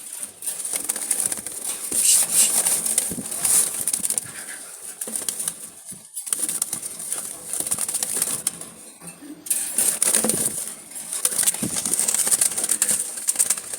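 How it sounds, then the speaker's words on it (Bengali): Running Jalali pigeons in a loft give soft coos and bursts of wing flapping and fluttering, rising and falling in waves with brief quieter gaps. "দেখছেন সবগুলো সুস্থ সবল কবুতর ভাই।"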